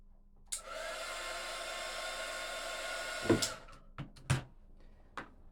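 A hair dryer blows steadily for about three seconds, drying paint on a small polar bear zipper charm, then cuts off and is followed by a few sharp clicks and taps close by.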